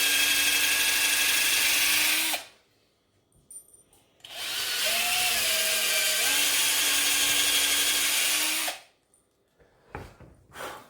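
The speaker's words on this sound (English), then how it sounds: "Let the drill bit" A power drill whines steadily in two long bursts, its pitch dipping under load as it bores slowly through a wooden guitar body for the bridge, with brief quiet gaps between.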